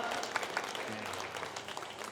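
Steady applause from a church congregation during a Sunday service, soft and somewhat distant, a continuous patter of many hands clapping at even intensity.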